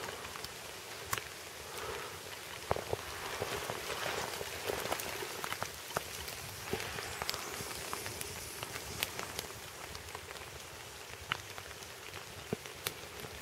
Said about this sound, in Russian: так еще и дождь пошел